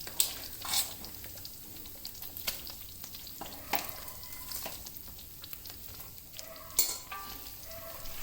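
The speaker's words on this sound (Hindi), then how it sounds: "सोक की हुई मेथी है जिसको आप इसमें थोड़ा थोड़ा करके ऐड करते जाइए और इसको फिर भूनते जाइए" Soaked fenugreek paste is pressed, stirred and roasted in a pan: a soft steady sizzle broken by irregular scrapes and light clinks of a spatula, close and fairly quiet, with no speech.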